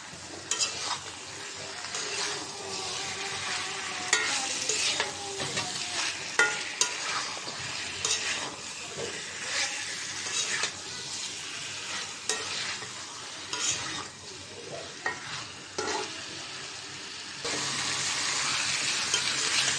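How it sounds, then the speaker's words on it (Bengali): Stinging catfish and potato pieces sauté in a pan for a curry, a steady close sizzle with frequent scraping stir strokes throughout and no voices. "মাছটাও কষাই নিব।"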